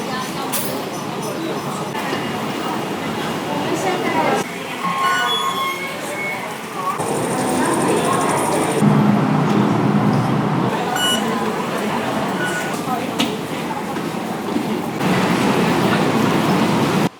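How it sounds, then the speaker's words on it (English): A Hong Kong subway train carries riders with a continuous rumbling roll and occasional high wheel squeals, while voices talk over the steady noise. "Let's take the subway."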